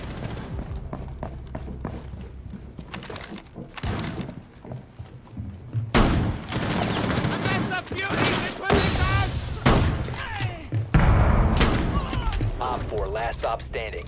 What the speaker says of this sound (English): He just shot me through the shield.